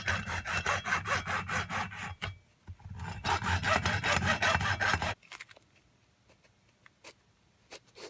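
Close rhythmic hand-sawing strokes cutting through the plastic casing of a Makita 9.6V battery pack, two steady runs of quick back-and-forth strokes separated by a pause, then lighter scattered scraping.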